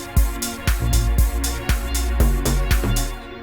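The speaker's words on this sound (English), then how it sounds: "If you can listen to the way this bass sounds over here" A deep, punchy Afro/deep tech house bass line pulsing on a steady four-on-the-floor beat, with bright hi-hat hits between each thump, loud and driving throughout.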